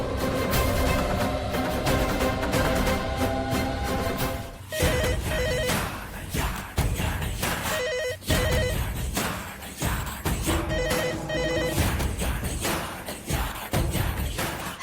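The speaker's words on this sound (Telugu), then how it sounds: "మా ఇంటి ల్యాండ్ లైన్ కి కాల్ చేయండి" A home landline telephone rings in repeated electronic bursts that stand out over loud, continuous dramatic background music.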